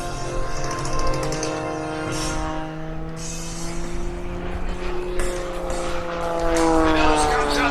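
An Eagle 580 aerobatic propeller plane rolls through a maximum-performance aileron roll at an airshow, its engine drone loud and steady with pitch sweeping up and down, while an announcer talks over it.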